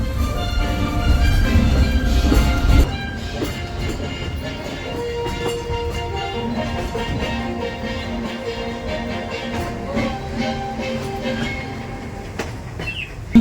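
Disneyland Paris railroad train rolls along with steady rumbling and rhythmic clickety-clack from the wheels on the rails, heard close and continuous throughout.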